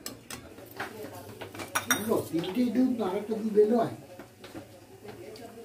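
Eggplant stirred in a hot cooking pan, a utensil scraping and clinking against the metal in an irregular rhythm while a person talks over it.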